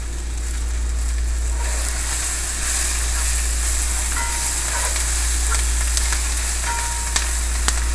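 Onions sizzle in a hot cast iron pan with a steady, bright frying hiss, a low hum underneath and a few small pops and clicks near the end.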